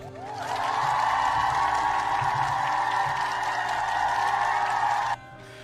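A canned burst of cheering and applause plays loud and steady for about five seconds, a dense roar of crowd noise that cuts off abruptly.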